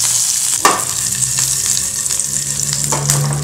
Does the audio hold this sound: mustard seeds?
yes